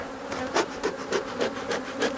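Honey bees buzz at an opened beehive, a dense continuous hum close by with individual bees pulsing louder as they pass.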